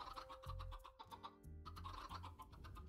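Baby chickens in Minecraft cluck in a soft, short run of chirps and clucks, faint and close, with no talking over them.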